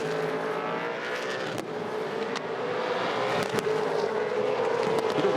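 V8 Supercars race cars launch from the start with wheel spin, a loud, sustained roar of engines heard from a distance with sharp bursts and crackles scattered through it.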